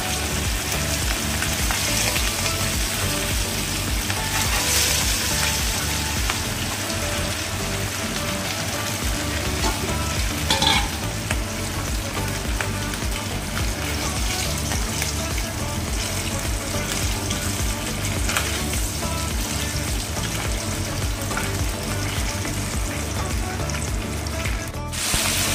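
Fish pieces frying in hot oil in a kadai for a Bengali fish curry, a dense, continuous crackling sizzle filling the whole stretch, close and steady with no talk.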